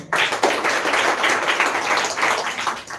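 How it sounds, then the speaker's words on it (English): Audience clapping after a mentor's motivating speech at an English-learning semi-final event, a steady, fairly close burst of many hands for about three seconds. "So once again, clap for him"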